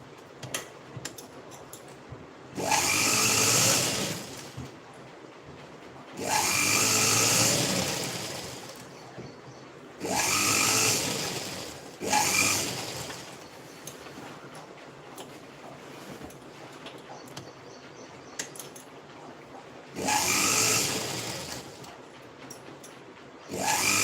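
A sewing machine stitches fabric in several loud bursts of rapid mechanical whirring, each lasting a couple of seconds, separated by quiet pauses.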